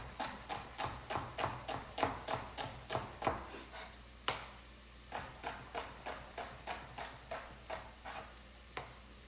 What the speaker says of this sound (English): I can stack them on top of each other and give them a nice chop.